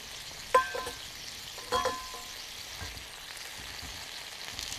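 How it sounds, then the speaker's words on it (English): Meat sizzles steadily in a hot pan at a camp, a soft continuous hiss broken by two louder clanks of a utensil against the pan. "See that sizzling going on."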